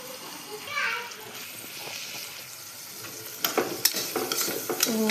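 Onions sauté with masala, tomato, ghee and coconut oil in a pan, a steady sizzle with scraping stirs growing busier toward the end, while children play and talk in the background.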